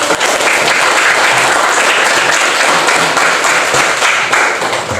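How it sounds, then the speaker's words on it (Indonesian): A classroom of students claps loudly during a teaching-practice lesson on types of waste, a full, sustained burst of close clapping that carries on without pause and with no speech on top. "beri tepuk tangan kepada Kak Dera Hayu"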